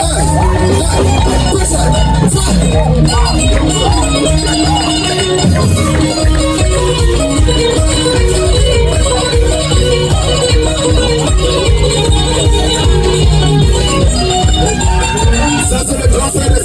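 A live concert crowd cheers and roars over loud music, a steady wall of voices and noise sustained throughout at high volume.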